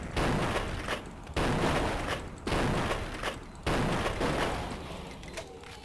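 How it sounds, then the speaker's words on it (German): Gunfire in Vampire: The Masquerade - Bloodlines, with four loud bursts of shooting at roughly one-second gaps, each one sharp at onset and then dying away into a rolling rumble. "So, die schießen sich aber auch gegenseitig immer in den Kopf"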